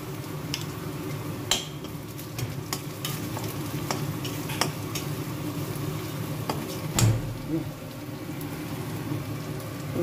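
Cumin powder and spices fry in hot oil in a pan, giving a soft continuous sizzle with occasional stirring scrapes and clicks, fairly quiet and close, with no talking.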